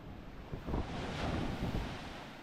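Big ocean waves surge and wash onto Fort James Beach in Antigua, a continuous roar of surf with swelling crashes, mixed with steady wind buffeting the microphone.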